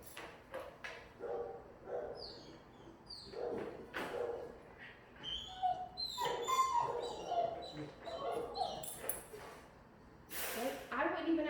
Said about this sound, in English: You get 5 minutes to complain about the world and how your life so isn't fair because you're just sitting in this kennel.